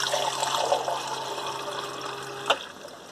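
Water poured for waffle mix inside a van: a steady, bright splashing stream that runs for about two and a half seconds, then ends with a small splash.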